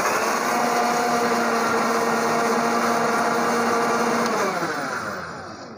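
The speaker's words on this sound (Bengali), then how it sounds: "এখন আমি ব্লেন্ডারে দিব, দিয়ে ঢাকনাটা দিয়ে দিচ্ছি। ঢাকনাটা দিয়ে একটু হালকা ব্লেন্ড করে নিব।" Blender whirring steadily with its lid on while mixing mayonnaise ingredients, a loud, even motor drone that holds for several seconds before winding down and slowing at the end.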